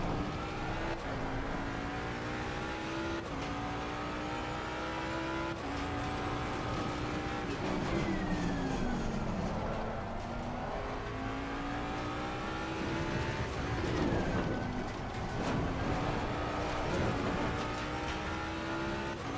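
Ford Mustang GT3 race car engine heard from the cockpit in Assetto Corsa Competizione, a loud continuous roar rising and falling through revs and gear changes for the whole stretch, with no talking.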